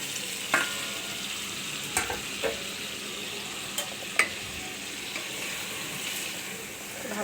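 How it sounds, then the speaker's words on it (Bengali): Hilsa fish frying in a pan with cooked-down tomato, a steady low sizzle running throughout with a few sharp clinks and scrapes of stirring scattered across it. "টমেটো ভুনা হয়ে গেছে, এবারে আমি ইলিশ মাছগুলো দিয়ে দিচ্ছি।"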